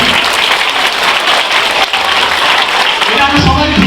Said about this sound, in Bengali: আচ্ছা, এটার জন্য সুস্মিতার জন্য একটা বড় হাততালি হবে,